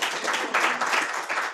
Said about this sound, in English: We need to clap for Daktari